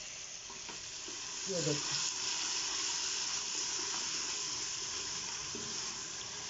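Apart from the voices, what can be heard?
onions frying in a pan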